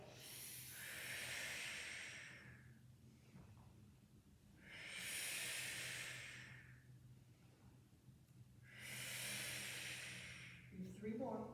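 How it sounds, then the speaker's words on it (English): Three strong, drawn-out exhales during a Pilates exercise class, each a broad breathy rush lasting about two seconds, evenly spaced and close up, with a faint low hum underneath. "Use that strong exhale"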